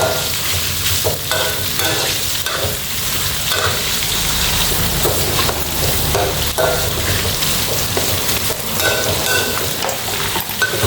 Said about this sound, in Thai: ทอดหมูแดดเดียวค่ะ